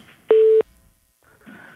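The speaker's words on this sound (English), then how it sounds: "I'm getting some kind of beeping on this phone that" Short, loud electronic beep on a telephone line during a radio call-in interview, a single steady tone lasting about a third of a second, followed by faint line noise.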